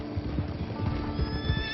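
A horse neighs and whinnies in a Western-style video game where a mounted cavalry militia is fighting a gang, a drawn-out whinny heard over low background game noise.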